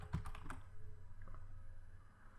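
A few quick keystrokes tap on a computer keyboard, close and quiet, bunched in the first half-second, then faint background hum.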